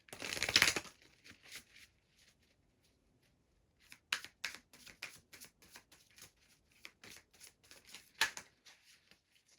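A brisk burst of tarot card shuffling, a pause, then a long run of rapid papery flicks and riffles close up, without speech.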